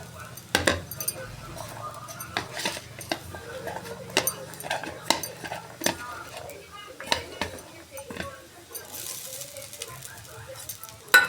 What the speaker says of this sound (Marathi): हे असे थोडे परतले की आपण त्यामध्ये तांदूळ, भिजवलेले शाबूत तांदूळ आणि बटाटा घालून घेऊ